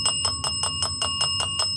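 A ghost hunting meter's bell alarm rings in rapid, evenly spaced electronic bursts, about eight pulses in under two seconds, loud and close with a steady high whine underneath.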